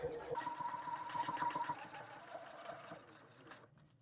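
Sewing machine stitching the fabric lining of a glasses case: a short, quiet whirring run of stitches lasting about three seconds before it stops.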